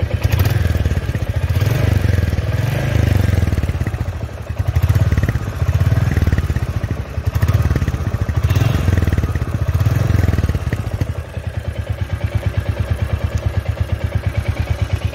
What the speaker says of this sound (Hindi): अभी मैं थोड़ा सा थ्रॉटल देता हूँ,